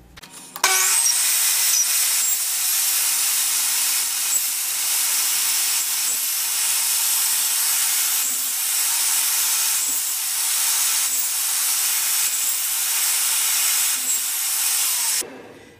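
A hand saw cutting notches into a metal TV antenna element, a harsh, continuous rasping drone that keeps an even level for about fifteen seconds, close and loud, with no talking.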